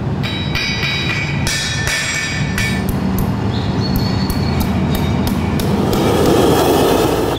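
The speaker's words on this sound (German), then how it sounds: "Mit ein paar Hammerschlägen passt er die Hufeisen an die Form der Hufe an." A farrier beats horseshoes into shape with a hammer at a mobile military forge, giving a steady run of loud, sharp metallic strikes over a constant background roar.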